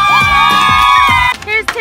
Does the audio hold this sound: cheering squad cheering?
yes